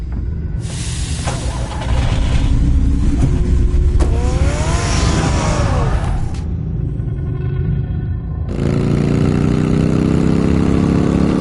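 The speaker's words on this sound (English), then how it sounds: "Get the car ready, Alfred." A car engine rumbles steadily in Batman: The Telltale Series, a loud low idle that continues under shifting background game sounds and then revs up with a rising tone near the end.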